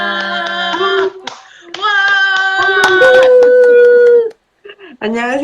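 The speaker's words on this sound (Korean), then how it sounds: "우리 박수로 환영해 주시면 감사하겠습니다" A lecture audience greets an incoming speaker with hand clapping mixed with loud excited cheering voices. The sound arrives in uneven bursts with brief pauses between them.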